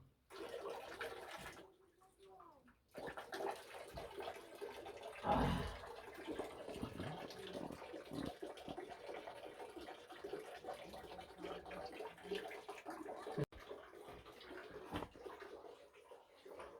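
Water from a hidden natural spring flows in a continuous rushing stream, fairly faint and steady, with a brief louder surge partway through and a short quiet gap near the start.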